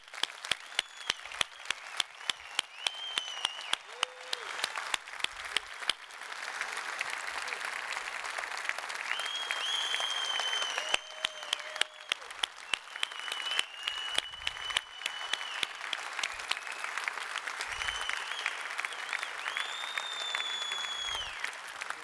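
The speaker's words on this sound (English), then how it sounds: "give everyone who brought this night together a big round of applause" Sustained audience applause at a live truck anthem reveal event for Mack Trucks, with a few sharp distinct claps at first, then a broad steady wash of clapping, moderately distant, mixed with scattered whistles.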